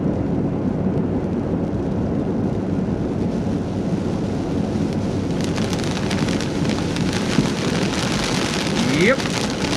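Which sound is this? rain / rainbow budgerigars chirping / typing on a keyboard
rain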